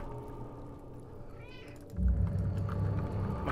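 A cat meows a few times in a horror game session, thin rising cries heard faintly over a low droning ambience that swells louder near the end.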